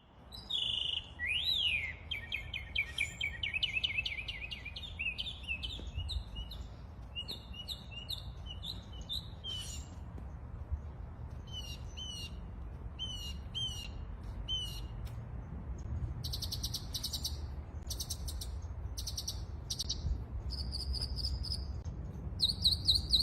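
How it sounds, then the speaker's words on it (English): A recorded northern mockingbird sings a long run of varied, repeated chirps, trills and whistled phrases, bright and close against a faint insect and crickets hum, with no voices. "Just listen to the song of this northern mockingbird."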